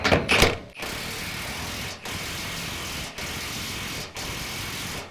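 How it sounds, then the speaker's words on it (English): Trailer equalizer suspension bolts are tightened with a ratchet socket and a backup wrench, a brief clank followed by four long runs of rapid ratchet clicking separated by short pauses, close and loud. "We're going to use our backup wrench and our socket."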